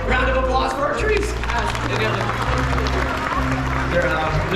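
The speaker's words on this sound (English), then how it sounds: "Round of applause for our trees." Audience applause and cheering from a crowd at a Disney World Animal Kingdom show, a dense steady wash of clapping sustained for several seconds over loud low rumble.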